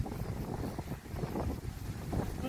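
Strong gusty wind the morning after Typhoon Maysak buffets the microphone outdoors in a steady low roar with uneven surges and no speech.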